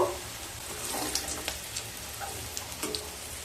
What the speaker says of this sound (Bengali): উচ্ছেগুলোকে লাল লাল করে ভেজে নেব